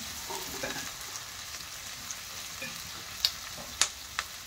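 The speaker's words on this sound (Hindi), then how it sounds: "और इधर बना रही है आलिया चाय और अपने लिए सेक रही है ब्रेड" Bread toasting with ghee in a pan gives a soft, steady sizzle close by, with a few sharp clicks and taps near the end and no voices.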